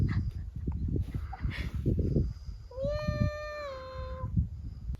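A cat on Inis Mór in Ireland's Aran Islands gives one clear, drawn-out meow over rumbling wind noise, preceded by some fainter, softer sounds.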